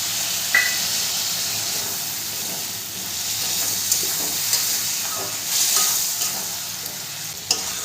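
Potatoes and masala stir-fry in a pan with a steady soft sizzle and hiss, punctuated by scraping stirring strokes, close and moderately quiet, with no talking.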